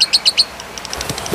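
A songbird offered for sale chirps in a quick run of four bright, high calls, followed by softer, scattered tweets nearby with no talk.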